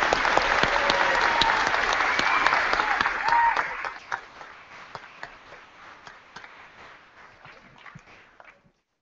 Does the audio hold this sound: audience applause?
yes